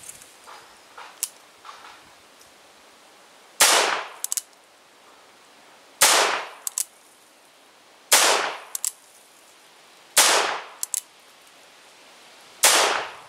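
A .38 Special Cimarron Lightning revolver firing MagTech ammunition outdoors: five loud, sharp shots spaced about two seconds apart, each with a ringing tail, after a few faint clicks of handling.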